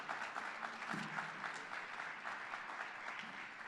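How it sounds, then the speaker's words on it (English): Guests applaud scholarship honorees Mrs. Bonner and Larry Bonner, a room of many hands clapping steadily, fairly quiet and somewhat distant, with a faint voice or two underneath. "Let's have a round of applause for Mrs."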